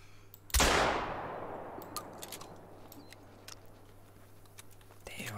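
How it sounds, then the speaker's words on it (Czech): A single loud shotgun blast in The Hunter: Call of the Wild rings out near and decays slowly, followed by faint clicks and small ticking sounds. "Tak s touhle brokovnicí se teprve učím"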